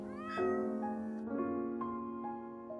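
A cat meows in the Doki Doki Undercurrents video game, a few clear, close, tonal mews in quick succession over a faint background.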